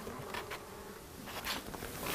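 Honeybees hum and drone in an opened beehive with tens of thousands of bees, close by at a moderate level. Individual bees buzz louder now and then as they pass. There is no speech.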